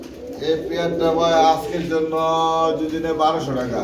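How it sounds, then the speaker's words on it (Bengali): Rajshahi Giribaz pigeons coo in low, rolling phrases at close range, with a voice talking nearby. "এটা কবুতর বিটটার নাম কি মূলত রাজশাহী গ্রিবাস কবুতর বলা হয়"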